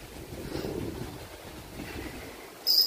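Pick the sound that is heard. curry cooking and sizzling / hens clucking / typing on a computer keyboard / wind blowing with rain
wind blowing with rain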